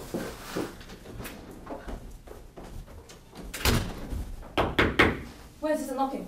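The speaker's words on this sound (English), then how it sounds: "Where is the knocking?" Knocking on a door, played as a stage sound effect in a university English-department performance of Macbeth: a few loud, sharp knocks land in quick succession amid spoken lines and room noise.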